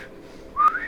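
A voice imitates a tiny whistle with one short, rising, bright toot near the end, sounding close and fairly loud against a quiet room.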